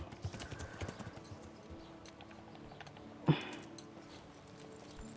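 A horse's hooves clop along at a brisk pace in the medieval game Kingdom Come: Deliverance, faint and uneven, with one sharper thump partway through, under a low steady background.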